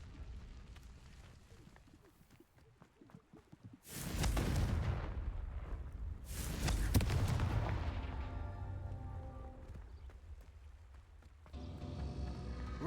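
Booming Confringo blasting-spell explosions in the video game Hogwarts Legacy, two loud broad bursts a few seconds apart with a rumbling, crackling tail, followed by a sustained tonal hum.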